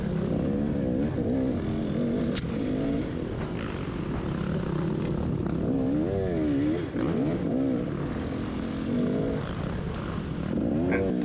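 Four-stroke A-class dirt bikes at a GNCC off-road race, Buckwheat 100, roar past with rising and falling engine revs, loud and close, several machines overlapping with no talk.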